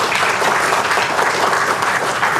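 Dense, steady applause from a seminar audience, broadband and continuous for the whole stretch, loud and close with no talk over it.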